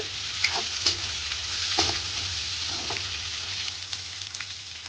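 Ingredients for aval upma, made with flattened rice poha, fry in oil in a pan with a dense, steady sizzle. Occasional stirring clicks come through, close and even throughout, with no talking.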